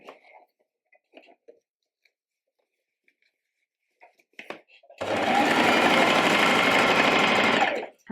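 A sewing machine stitching along a dress strap's end, starting after a few soft handling noises with a loud, continuous whirring run of about three seconds that stops abruptly.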